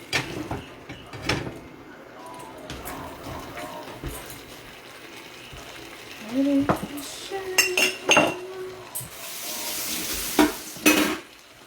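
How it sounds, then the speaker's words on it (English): Sauce with already-fried tofu heats toward a boil in a pan, a low bubbling sizzle beneath clinks of utensils and pots, a spoon tapping and scraping, with a voice speaking in between. "Okay, so it's coming to a boil already."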